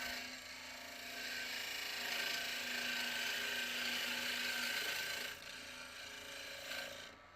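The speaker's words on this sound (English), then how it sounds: "I switched to the 1/2-inch spindle gouge to give it a nice clean surface." A log spins on a wood lathe while a 1/2-inch spindle gouge smooths its surface, giving a steady close rasping scrape with a faint low hum beneath, rising slightly in the middle and easing toward the end.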